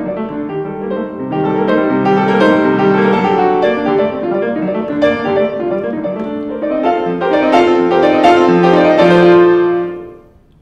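Solo piano playing Martucci's Tarantella Op. 44 No. 6, insistent repeated short motifs in a dense, steady stream, loud and close, ending with a decay.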